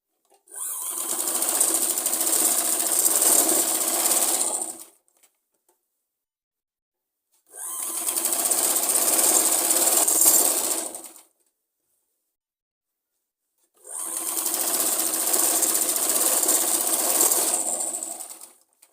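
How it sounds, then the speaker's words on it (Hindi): Three bursts of a sewing machine stitching lace onto folded Punjabi suit fabric, each about four seconds long, separated by pauses. The whirring is close, bright and even, with no voices. "इसके ऊपर लेस के ऊपर हमने सिलाई लगा लेनी है"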